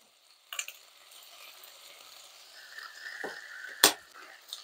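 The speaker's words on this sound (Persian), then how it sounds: "دوستای عزیز میبینید که گوشت آرام آرام سرخ میشه" Meat fries in a pan with a soft, continuous low sizzle, broken by a few scraping stirs and one sharp utensil knock, with no talk.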